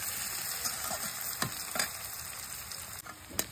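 A pile of onions frying in a pan with dried chillies for dal, with a continuous close sizzle and a few sharp scraping stir strokes, and no talking.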